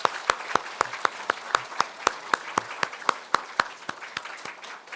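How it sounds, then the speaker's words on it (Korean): Church congregation at a Sunday worship service clapping to congratulate a newly married couple, a sparse, rhythmic run of roughly twenty sharp claps in a steady beat, fairly close and without talk. "우리 축하의 박수 다시 하겠습니다."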